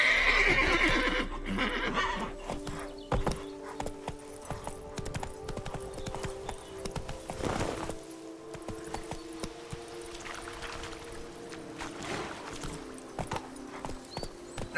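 A horse gallops with steady clip-clop hoofbeats and whinnies in The Witcher 3 video game, its hooves loud and close throughout amid game ambience, and a brief voice is heard near the start.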